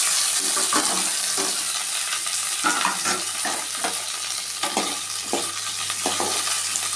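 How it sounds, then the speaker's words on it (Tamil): Onions, slit green chillies and curry leaves sauté in hot oil with popped mustard seeds, a steady close sizzle broken by repeated scraping stirs of a spoon against the pan. "ரெண்டு வெங்காயம் பச்சை மிளகா கீறி வச்சுருக்கேன் கொஞ்சம் கருவேப்பிலை எல்லாத்தையும் வதக்கிடுவேன்"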